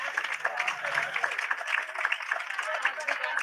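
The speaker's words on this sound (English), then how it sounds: "Please give a round of applause for our Rooting Forward panel." Audience applause for a panel at an outdoor energy fair, a rhythmic patter of many hands at moderate volume, with voices and a brief cheer mixed in.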